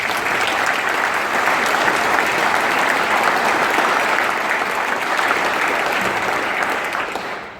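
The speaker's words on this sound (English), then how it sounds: "I think that really deserves a round of applause" Ceremony audience at the Green Flag Award 2019 giving a loud, sustained round of applause, thick and continuous clapping that tapers off only at the very end.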